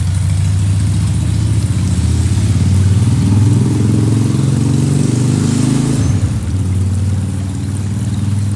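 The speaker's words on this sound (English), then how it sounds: "Because the motorcycle is just coming by, revving its engine." A motorcycle engine runs loud and close with a steady low rumble, swelling as it revs before dropping away near the end as it passes.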